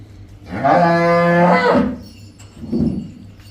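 A cow gives a long, loud moo close by, followed after a short pause by a second, lower and shorter moo.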